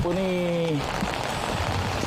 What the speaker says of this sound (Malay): Hujan pun tak berhenti-henti